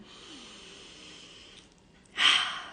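Deep breath in during guided breathing: a soft, faint airy inhale drifting along, then a sudden loud, close rush of breath near the end, with no words spoken.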